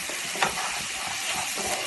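Moong dal with salt and cumin powder stirred in a pot, a steady soft sizzling hiss with faint intermittent scraping strokes of a spoon, close and alone without voices.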